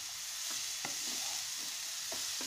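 A beet and carrot mixture for vegetable chop is stir-fried with sugar and salt in a pan, giving a constant sizzle broken by a few spaced scraping strokes of the spoon.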